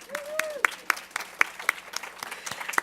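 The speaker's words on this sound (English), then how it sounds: "let's hear a round of applause for these 6 ladies" A small workplace audience claps for six employees at a quarterly staff meeting, a sparse scatter of individual claps with distinct separate strikes, faint and roomy, with a murmur of voices.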